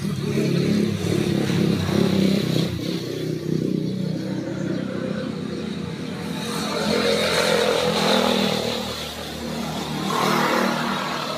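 Motorcycles passing along a road in front of a house, a continuous engine drone that swells and fades as riders go by, fairly loud with no talk.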